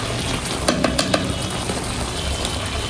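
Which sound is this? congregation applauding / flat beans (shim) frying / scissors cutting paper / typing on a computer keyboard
flat beans (shim) frying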